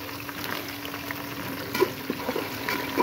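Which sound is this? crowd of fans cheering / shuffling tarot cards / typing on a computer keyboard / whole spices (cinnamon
whole spices (cinnamon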